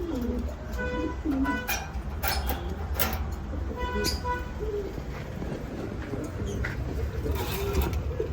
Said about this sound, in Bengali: এক জোড়া কবুতর আছে বিউটি কবুতর